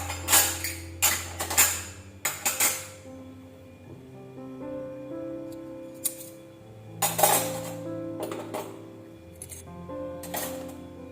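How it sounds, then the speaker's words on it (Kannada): Kitchen vessels being taken out and arranged, metal pots and plates clanking and clinking in quick bursts, close up, with ringing tones hanging between knocks. "ಈಗ ಪಾತ್ರೆನ ತೆಗೆದು ಜೋಡಿಸ್ತಾ ಇದ್ದೀನಿ"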